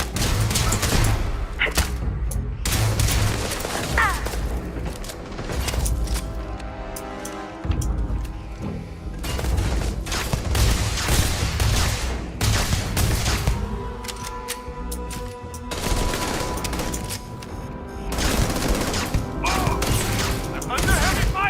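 Sustained heavy gunfire and thudding impacts in a Starfield space-combat firefight, loud and dense with bursts and booms, with voices now and then over the shooting.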